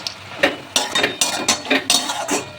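A spoon scrapes and clinks against a pan as fried potatoes and lentil dumplings are stirred with turmeric, in quick, repeated close strokes with faint sizzling underneath.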